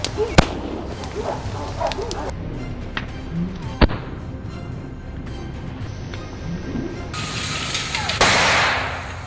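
Several sharp gunshots fired at wild boars in a field near forest, sounding as separate loud cracks spread through the stretch, with voices talking underneath and some rustling noise toward the end.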